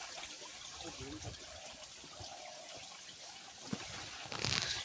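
Water from the Kiajhar waterfall in Dhenkanal rushes and trickles in a soft, distant wash, faint and continuous, with a voice murmuring beneath it.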